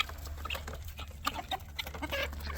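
Chickens and ducks in a homestead coop during morning feeding cluck and chatter in scattered, overlapping bursts, some near and some farther off, over a low background hum.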